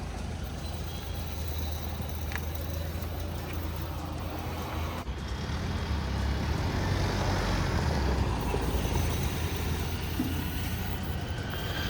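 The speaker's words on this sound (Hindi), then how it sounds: "बहुत ज्यादा गंदे तरीके की आवाज कर रही है ये गाड़ी" Mahindra Thar Roxx automatic with worn brake pads driving along, a continuous loud rumbling road and mechanical noise with a harsh grinding quality throughout, no talking.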